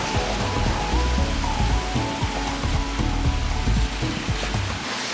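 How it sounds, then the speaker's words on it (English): Heavy rain pours steadily onto a city street in China, a dense, loud, continuous hiss with low rumbling wind buffeting underneath. "I didn't realize it was gonna be raining this hard today."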